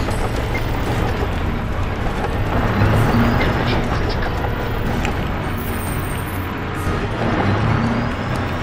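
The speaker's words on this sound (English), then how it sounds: "I can hear the tank." A tank engine in the video game Crysis Remastered rumbles as a steady, heavy low drone that fills the whole stretch, mixed with dense battlefield noise and occasional higher clatter.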